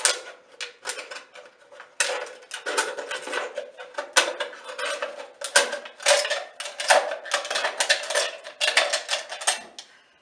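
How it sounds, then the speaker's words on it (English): Scissors snipping around the thin aluminium wall of a drink can, a steady run of close, crisp metallic cuts and crinkles repeating for several seconds with no voices. "Take a pair of scissors and very carefully just make an incision in the edge there"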